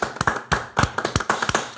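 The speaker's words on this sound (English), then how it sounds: "Round of applause." A short round of clapping from a few people, quick uneven claps close by, lasting under two seconds.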